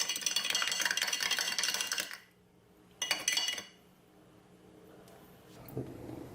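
A spoon clinks and rattles briskly against a glass of iced coffee, a long burst of stirring, a pause, then a shorter clinking burst before quiet.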